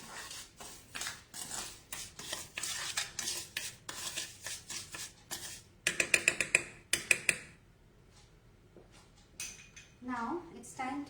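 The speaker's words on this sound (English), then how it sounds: "we'll just whisk it" Passion fruit and sugar being whisked in a bowl, a quick run of scraping clicks against the bowl around conversational talk, fairly close and moderately quiet.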